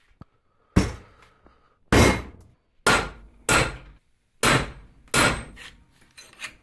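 Heavy hammer blows drive a tight metal sleeve onto an axle shaft, about seven loud ringing metallic strikes at uneven intervals, each decaying quickly.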